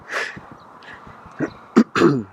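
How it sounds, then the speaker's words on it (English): A few short, harsh coughs or throat-clearing bursts break through breathy sounds, close up, with the last two coming in quick succession. "I'm not supposed to cough into my hand anymore, am I?"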